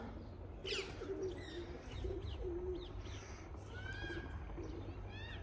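A pigeon coos softly in a series of low, repeated calls, with faint chirps from other birds in the background.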